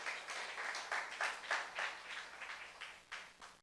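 A church congregation at a youth service applauds, a faint, steady wash of many hands clapping in uneven pulses with no voices over it.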